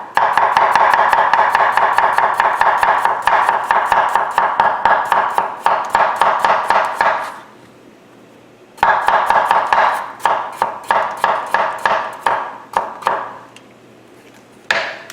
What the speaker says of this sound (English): the potato has to be sliced very thin. So, just slice it up.